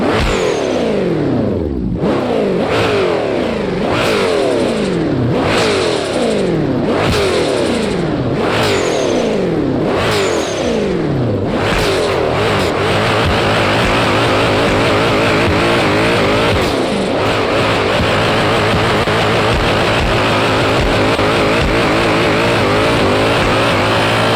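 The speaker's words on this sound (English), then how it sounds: "This is what the V8 sounds like." A V8 engine in a drift video game, run on a dyno, roars through repeated rising revs, each climb cutting off sharply, then settles into a sustained loud high-rpm drone, close and continuous.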